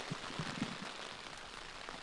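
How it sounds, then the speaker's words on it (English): Heavy rain drumming steadily on a marquee roof at an outdoor AFL finals day in London, a dense continuous wash of droplet noise with a few louder isolated knocks, no voices. "We're coming down with a lot of rain."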